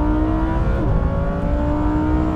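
Sports car engine at a drag race start between a Lamborghini Huracan, Audi R8 and Nissan GT-R, a loud, steady accelerating roar with rising tonal whine, heard from close inside the car and without speech.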